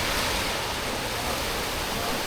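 Steady broadband roar of sea waves washing in continuously at a beach during a holiday trip, loud and even with no distinct breaks and no voices.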